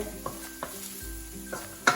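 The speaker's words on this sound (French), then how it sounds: "Donc vous remuez un petit peu vos champignons" Mushrooms sizzle in a pan while a wooden spoon stirs them, giving a steady frying hiss broken by several sharp scraping knocks of the spoon against the pan.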